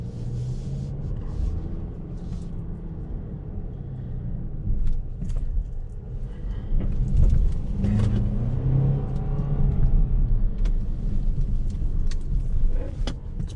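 A 2020 Mercedes GLC 350e 4MATIC plug-in hybrid SUV accelerates in sport mode, heard as a steady low engine and road rumble from inside the cabin that swells gradually with no distinct gear shifts, without talking.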